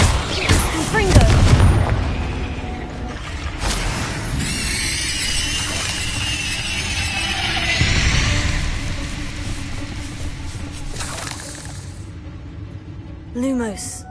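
Confringo fire spells in the Hogwarts Legacy video game blast repeatedly as loud booming explosions with crackling, rumbling tails, spread across a busy stretch of combat, with a voice talking over parts of it.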